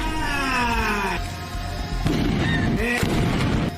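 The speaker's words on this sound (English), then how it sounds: "Including this big explosion." Big pyrotechnic explosion with fire in a music video, heard as sharp crashing bursts around the two- and three-second marks over music and tonal sound.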